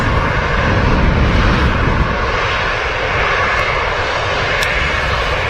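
A Ryanair jet taxis at Manchester Airport, its engine giving a loud, steady, continuous roar close by with no talk over it.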